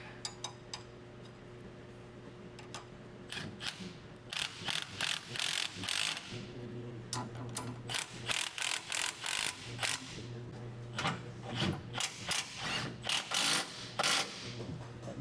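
Ratchet tightening bolts during a rear sway bar install on a TRD Pro, with rapid clicking bursts repeated in quick, rhythmic strokes up close, separated by short pauses and no talking.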